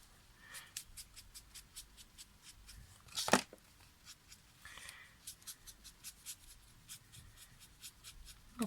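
Felt-tip markers scratching on paper while flowers are colored in, a quiet run of short, rhythmic rubbing strokes with a few brief louder scrapes, close up and without talk.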